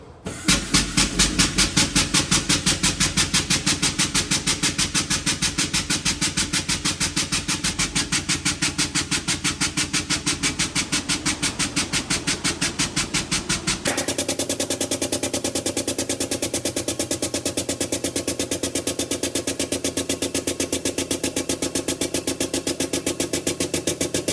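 A pair of hydraulic 40-ton inspection pit jacks lift a tractor in a workshop pit, a loud rapid mechanical pulsing chatter running steadily throughout, shifting to a slightly different tone partway through, with no talk.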